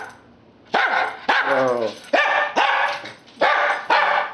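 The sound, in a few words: dog barking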